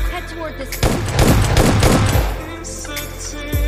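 Loud automatic gunfire from the battle-royale video game PUBG rattles in rapid bursts up close, dense sustained volleys with a final sharp shot near the end.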